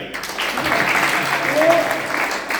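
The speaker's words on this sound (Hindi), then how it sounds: "मारो ताली भाई" A karate class claps together in a training hall, a dense burst of hands that swells slightly toward the middle, with voices mixed faintly into the noise.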